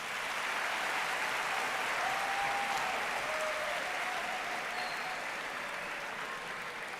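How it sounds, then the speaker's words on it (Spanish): An audience at a congress presentation of Princess of Girona Prize finalists in Murcia applauds steadily and fairly loud for several seconds, the clapping sustained throughout with only a slight fade near the end. "Os dejo aplaudir."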